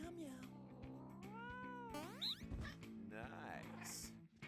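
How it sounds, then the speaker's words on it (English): A cat meows in the video game No More Heroes 2, several drawn-out rising and falling meows and a yowl over steady game music, with people talking quietly in the background. "Meow meow."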